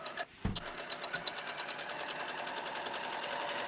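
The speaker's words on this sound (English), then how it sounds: "And you're just machining it to hold it." A sewing machine running a basting stitch along fabric within the seam allowance, a steady, fast mechanical whir close by after a few quick starting clicks.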